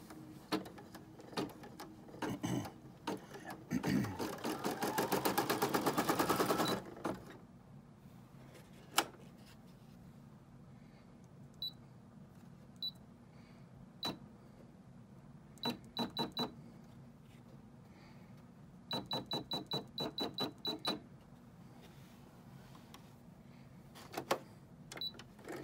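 A sewing machine stitches a quilt sandwich in short, intermittent mechanical bursts, with one longer, denser run early on and scattered clicks and pauses afterward, quiet and close, without talk.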